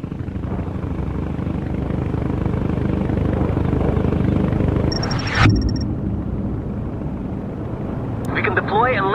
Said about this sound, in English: Our helicopters are looking for them now.